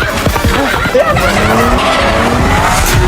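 During a heist short-film chase, a guard's car skids into a horse-racing ground. Loud tires squeal in sliding, wavering pitches over a roaring engine, all close and continuous.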